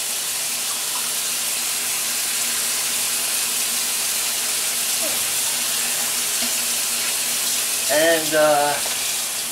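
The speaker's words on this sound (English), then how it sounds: "I'm going to give it a good rinse." Steady water running from a kitchen tap while juicer parts from an Omega 8003 auger juicer are rinsed, a loud continuous hiss throughout, with a brief word spoken near the end.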